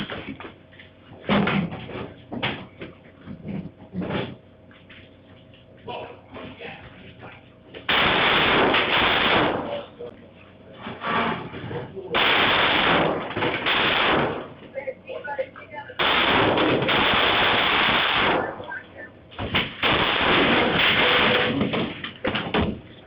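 Gunshots ring out in footage of a suspect shooting at officers, arriving as several loud, harsh bursts between stretches of quieter talk and movement.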